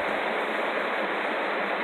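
Constantly running water from a stream feeding a fish pond rushes in a steady, dense hiss, close and even, with no pauses or other sounds.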